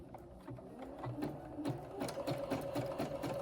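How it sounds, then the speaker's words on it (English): A sewing machine stitches fabric strips together for a square rope bowl. Its motor whirs in short, rapid mechanical runs at close range, quiet and steady, with no voice over it. "So I'm going to sew this."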